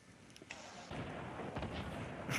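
Explosions in a Fortnite Battle Royale match come as scattered booms and pops, fairly faint, layered over steady in-game background noise, with no talking.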